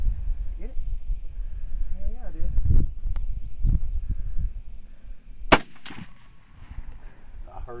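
Gunshots strike a metal pipe outdoors: sharp cracks, with one loud report followed by a ringing metallic ping. People talk around the shots.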